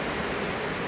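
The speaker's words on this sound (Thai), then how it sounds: "ลงมาปึ๊บฝนตกปับ" Steady rain pours outside a house while a boundary wall is being built, a dense even hiss filling the whole moment at low, constant level with no other sounds.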